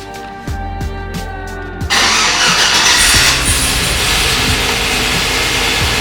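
A Tahoe LS engine idles with low rumbling, then cranks and catches around two seconds in, revving into a loud, steady running roar.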